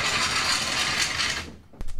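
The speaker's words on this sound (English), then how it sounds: "I can drop this down again and then just go click, click with the torque wrench" Torque wrench being worked on a Suzuki Every van wheel, giving close, dense ratcheting and mechanical rasping for about a second and a half, then a single sharp click.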